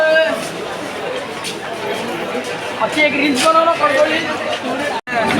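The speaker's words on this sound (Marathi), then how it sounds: "सो गायज बघू शकता आता स्टेशनवर एवढी गर्दी आहे" A crowded Lower Parel railway station in Mumbai fills with dense, steady crowd babble at close range, with many overlapping voices and a nearby speaker talking over the hubbub.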